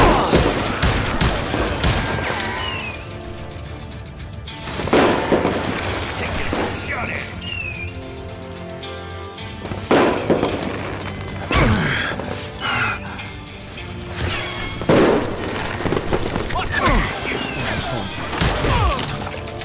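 Gunfire in Far Cry 4, repeated sharp shots and bursts spread through the stretch, loud and close, mixed with shouting voices and game music.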